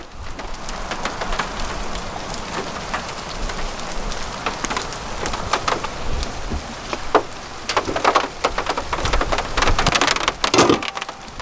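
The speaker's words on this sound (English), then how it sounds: "it's starting to rain even more" Heavy rain pours steadily outdoors in a dense, continuous hiss, with scattered louder drops striking nearby surfaces and no voices.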